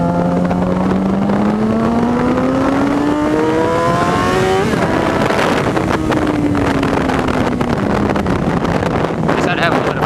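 A motorcycle engine revs and rises in pitch as the bike leans through a corner, then eases off, close and loud with heavy wind buffeting over it; a rider's voice is faintly present.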